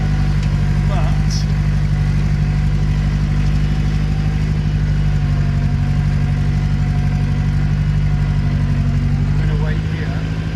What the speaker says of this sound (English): I don't normally mind about the tractor